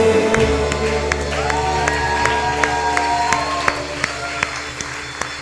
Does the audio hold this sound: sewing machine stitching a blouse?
no